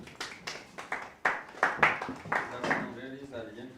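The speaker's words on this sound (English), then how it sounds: "welcome our chairperson with a round of clap" Audience clapping to welcome the chairperson at a business planning bootcamp session, a short burst of scattered hand claps that swells and fades over a few seconds with speech mixed in.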